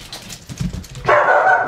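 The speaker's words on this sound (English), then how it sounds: "Once I get her in, the dogs all come running." Several dogs come running indoors on a farm and bark in short yips and whimpers. A louder, sustained bark bursts in near the end, close by.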